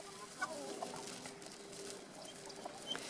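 Chickens and a cockerel settling into a new coop at dusk, soft scattered clucks and faint chirpy calls at a distance, quiet and intermittent over a low background hiss.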